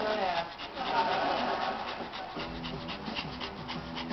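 A Pomeranian dog pants close by in quick, steady breaths that run through the whole stretch, with a steady noisy background.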